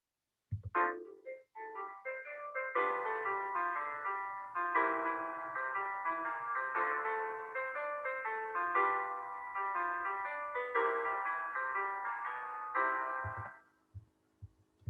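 Solo keyboard playing a flowing jazzy two-five-one chord progression twice, with chords and melodic runs for about thirteen seconds, then ending with a few soft knocks.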